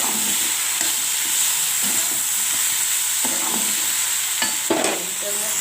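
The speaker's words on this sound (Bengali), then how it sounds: "তেল কম পরিমাণ তেল দিয়ে ভাজা যায়" Live pond ghuso fish fry in a small amount of oil, a steady close sizzle with occasional knocks and scrapes of a utensil against the pan, no speech.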